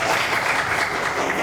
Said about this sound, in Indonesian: Tepuk tangan untuk Mbak Denia